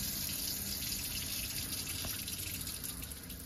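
Water runs steadily from a high RV faucet in an LTV Unity motorhome while the pump pushes the remaining water out of the lines during winterizing, a continuous close splashing rush with no talk.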